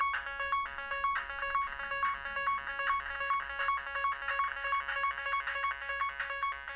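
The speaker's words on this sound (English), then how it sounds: "if we latch the arpeggiator on the NTS-1 and start it, we can hear that they are synced" A Korg NTS-1 synth arpeggiator plays rapid repeating bright notes in a tight steady rhythm, locked in tempo with soft Pocket Operator drum hits underneath, fairly quiet overall.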